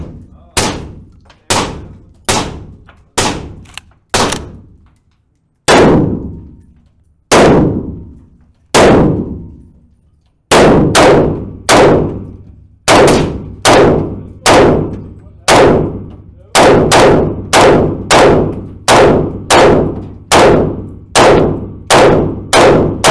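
Swiss guns fired at a Swiss shooting range, heard as loud, sharp single shots with ringing decay, spaced out at first and then coming in faster, steady strings.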